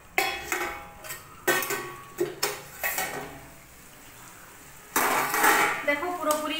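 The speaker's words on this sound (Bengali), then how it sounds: "এখন আমি ঢাকনা খুলছি" Metal pot lid lifted off a pan of mocha aloo posto, several close clinks and clatters against the rim followed by a louder burst of scraping and sizzle, with a voice speaking over parts of it.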